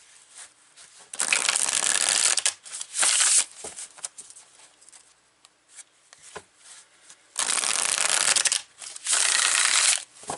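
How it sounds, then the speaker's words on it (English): Spellcastle Oracle cards being shuffled in two loud, dense bursts near the start and again toward the end, with quieter handling and small card taps between them. "I'm going to pull some cards here."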